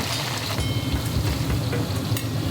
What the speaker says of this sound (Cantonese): 油溫降至200度，將啲香料同埋芫茜葱倒晒落去